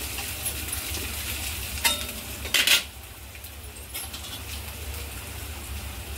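Fenugreek seeds and ajwain are stirred in a pan for batata vada filling, a quiet sizzle under a few sharp spoon scrapes against the metal.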